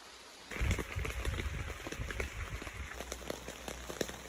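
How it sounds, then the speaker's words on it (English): Rainwater running down a dirt road beside a New England campsite after a heavy overnight downpour, a steady close rushing trickle with scattered drips and faint bird calls. "there's actually a little bit of water running down the road here still"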